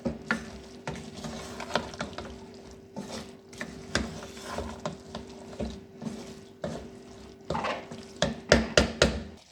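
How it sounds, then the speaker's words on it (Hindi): Mongray and potatoes being roasted in a pan, with frequent scraping and clattering stirs over a low sizzle, the strokes speeding into a quick run near the end, close by and with no voices. "अब मोंगरे को हम अच्छी तरह भून लेंगे"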